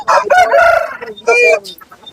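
A rooster crows twice in quick succession at a market, loud and close, with a brief pause between the calls.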